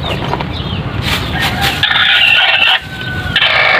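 Rhode Island chickens on an egg farm crowing and clucking close by, with a rooster's call rising over steady hen chatter and farmyard noise throughout.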